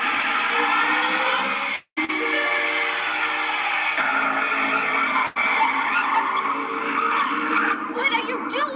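Tires squeal and an engine revs during a frantic getaway in an animated caper, as a supposedly near-silent car roars loudly for nearly nine seconds, with voices talking over the racket and two brief cuts to silence.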